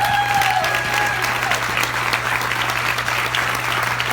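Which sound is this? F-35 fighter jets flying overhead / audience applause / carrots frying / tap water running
audience applause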